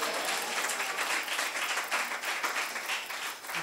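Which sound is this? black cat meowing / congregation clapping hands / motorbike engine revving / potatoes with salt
congregation clapping hands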